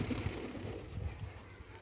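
A homing pigeon on a rooftop coos in low, throaty pulses, close and clear over a soft outdoor background.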